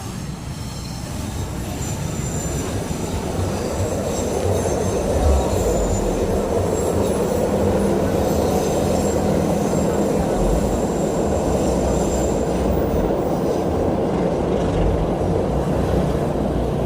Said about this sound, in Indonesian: Barusan ada kereta lewat ya